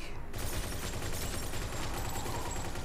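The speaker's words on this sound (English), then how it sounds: "You're shooting people up in broad daylight." Rapid gunfire rattles through a Mafia II gameplay scene in broad daylight, a sustained volley of repeated shots at steady loudness with no voices.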